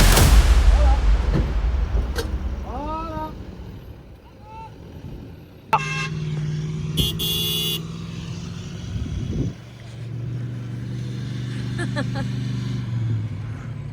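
Toyota Hilux 4x4 fitted with a camper cell driving off-road on tracks in Armenia, its engine rumbling low and steady throughout, with a brief tonal honk or whine midway and light background noise.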